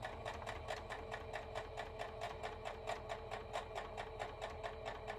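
A sewing machine stitches at a steady, rapid rhythm, a quiet mechanical whir with regular ticking pulses, no voices.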